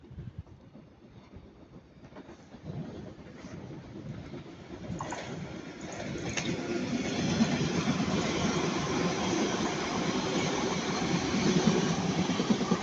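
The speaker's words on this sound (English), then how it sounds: "in Ardwick, always a train passing" A train passes through Ardwick station in Manchester, its rumble building steadily from quiet to a loud, sustained roar with rhythmic wheel noise that holds through to the end.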